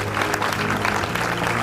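A crowd claps steadily and loudly at a church worship event, dense applause sustained throughout without pause.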